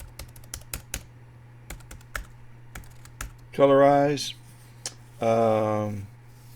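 Rapid, crisp keystrokes tap on a computer keyboard while a folder is being named, close and clear, broken twice by short bursts of a voice.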